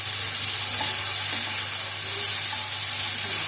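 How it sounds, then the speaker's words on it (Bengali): Onion frying in a pan, a steady, even sizzle and hiss close by with no voices over it. "পেঁয়াজটা তুলে দিলাম"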